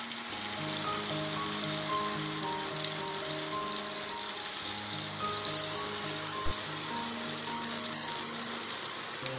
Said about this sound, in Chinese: 煎锅烧热，放油，用中等偏高的火来炒。